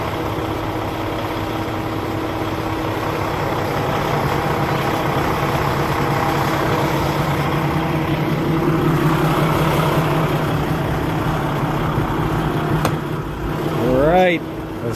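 A 2015 Peterbilt 579 truck with an MX-13 engine and Eaton 10-speed runs at a quiet steady idle, a low even rumble close by, with a person talking over it and a short squeak near the end.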